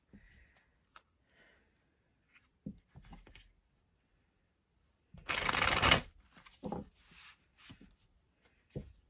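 Tarot cards tap and rustle softly in a quiet room, then a loud riffle shuffle runs for about a second, followed by a few more light card flicks and taps.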